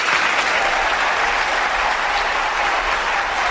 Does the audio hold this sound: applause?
yes